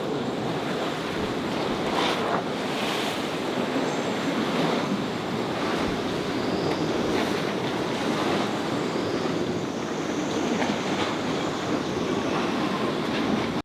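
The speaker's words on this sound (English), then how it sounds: "There's waves breaking right now." Storm-driven waves break against moored boats during Storm Martinho, a steady, loud roaring wash with periodic surges and no voices.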